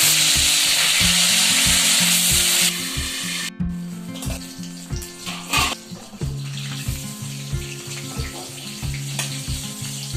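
Food fries in a pan, a loud close sizzle that fades after a few seconds into repeated rhythmic scraping and tapping of a utensil stirring against the pan, with a continuing softer crackle and no talk.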